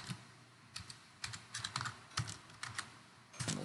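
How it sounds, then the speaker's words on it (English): Typing on a computer keyboard in road-design software, bursts of crisp, close key clicks in uneven clusters, alone and without any talking. "You just get to the beginning of it and type in Route 54."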